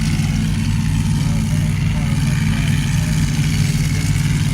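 A Hemi-powered drag racing car in the near lane at a drag strip, its engine giving a loud, steady, lumpy idle rumble close by, with an announcer talking over it.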